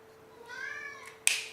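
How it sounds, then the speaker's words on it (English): A pet cat gives a single short, rising meow nearby, followed by a brief sharp noise. "now you hear my sweet kitty"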